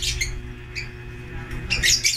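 Breeding pairs of small cage birds in a flight cage give several sharp bright chirps in brief bursts, closely spaced near the end, over a low background hum.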